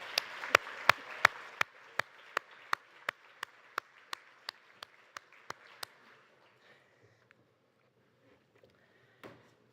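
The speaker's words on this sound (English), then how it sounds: "So please, let's give a round of applause." Applause for a birthday on the floor of a ministerial conference session comes as a string of evenly paced, sharp single claps that gradually soften and stop after about six seconds, leaving near quiet.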